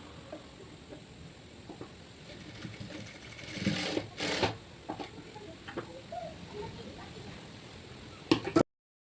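Sewing machine running a top stitch along a seam in fabric, a quiet rapid mechanical ticking that speeds up briefly in the middle and ends abruptly, heard close with faint room noise.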